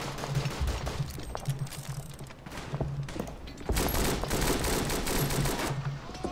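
Rapid machine gun bursts in the WWI trench warfare game Verdun, loud and close, with fast repeated shots pausing between bursts over a constant din of battle.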